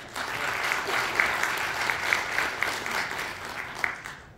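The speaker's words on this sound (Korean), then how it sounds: "질의에 대해 성실히 답변해 주신 백경영 부시장님께 큰 박수 부탁드립니다" Audience at a city mayor's New Year press conference in Guri gives steady applause for the deputy mayor, a dense, even wash of clapping that holds for several seconds without talk.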